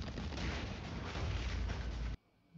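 Anime cannon blast from Kaiju No. 8, a single loud, booming roar of fire lasting about two seconds before cutting off sharply into quiet.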